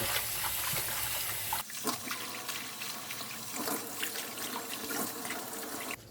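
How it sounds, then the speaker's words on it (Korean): Perilla leaves are swished by hand in a sink of water for kimchi, making close splashing and sloshing with a running-water rush, no talking. "이 깻잎도 깨끗하게 예, 세 번은 씻어주셔야 돼요"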